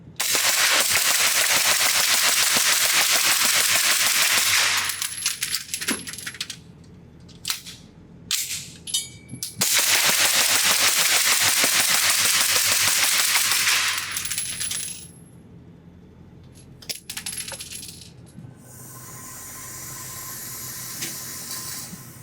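A suppressed B&T APC9 SD pistol-caliber carbine fired rapidly on a range, two long strings of fast, closely spaced muffled shots with mechanical clatter, separated by brief pauses and scattered single shots, no talk.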